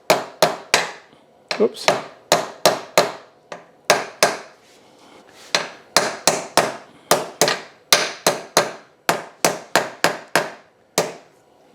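Sharp metallic hammer taps strike in quick clusters of two to four, repeated steadily and close by, seating a new steering stem bearing on a Honda XR250R motorcycle, with a brief spoken word between.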